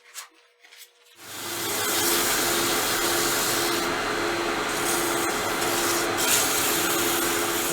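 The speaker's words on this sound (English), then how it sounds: "I am just going to put a little bit of sanding on there because of the end grain" Sanding the rough end grain of a turned wooden Christmas yule log box: after a brief quiet start, a steady, loud, gritty rubbing hiss runs continuously to the end.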